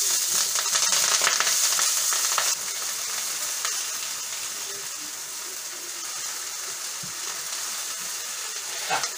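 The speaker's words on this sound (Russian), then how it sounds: "Так, лук жарится здесь." Steady sizzling of onions frying in a pan, close and continuous, a bit louder in the first couple of seconds, with no talking.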